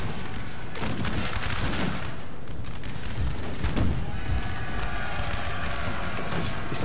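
Musket volleys crackle across a battlefield in Napoleon: Total War with the Austro-Hungarian Empire, a dense, continuous rattle of overlapping shots with occasional louder bursts, sustained throughout at a fairly loud, steady level.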